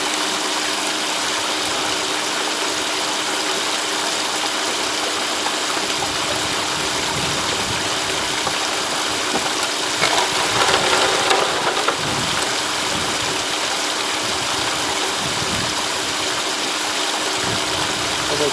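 Water rushing through a prospecting sluice below a punch plate, a constant loud wash of flowing water close by, with a faint motor drone underneath and a slightly heavier surge midway.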